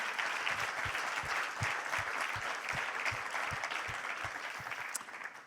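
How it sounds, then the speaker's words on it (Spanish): A church congregation applauds steadily and fairly loudly, a dense wash of many hands clapping that carries through the whole stretch without pause. "Den un aplauso al Señor si lo cree."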